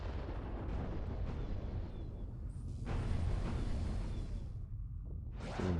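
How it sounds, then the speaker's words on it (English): Big missiles launching in the space strategy game Homeworld 2 with the Fairy Empire mod: a continuous, roaring rumble with whooshing bursts and muffled explosions layered throughout, fairly steady and dense. "there's some big missiles still launching over there"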